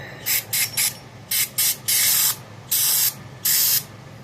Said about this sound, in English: I'm gonna spray this off real good